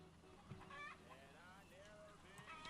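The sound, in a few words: chickens clucking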